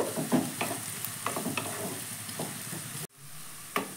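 Carrots frying in a pan for fried rice while being stirred, giving a steady close sizzle broken by scraping stir strokes, with a brief pause near the end before another scrape.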